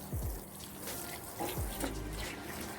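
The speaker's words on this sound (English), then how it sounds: "I'm gonna add some water." Water pours and trickles onto potting soil being wetted to make soil cubes, a soft, close splashing that runs steadily for a few seconds with no talking.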